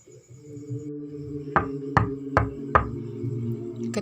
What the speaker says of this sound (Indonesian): Ketukan di pintu rumah mengalihkan lamunanku.